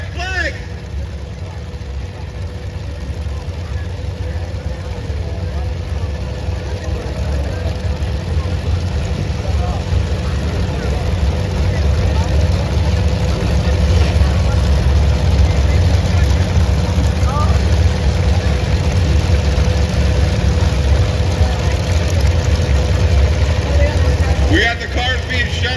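Demolition derby cars at a county destruction derby in Amador County, engines running together in a loud, steady, close rumble that holds throughout.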